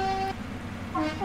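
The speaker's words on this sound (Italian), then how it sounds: "Il clacson sta buttando giù una barriera" A truck horn in the Snow Runner video game gives a short, bright blast that cuts off, then a second toot begins near the end over a low engine rumble.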